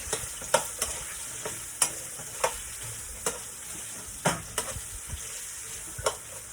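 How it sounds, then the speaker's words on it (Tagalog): Carrots sautéing in a hot pan for seafood pansit canton, a steady sizzle broken by sharp clicks and scrapes of a utensil stirring at irregular intervals, close and with no talk. "Igisa natin ang carrots."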